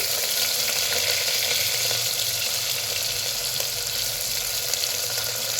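Whole spices, including peppercorns, fry in hot oil in a pan with an even, steady sizzle that holds at moderate loudness throughout.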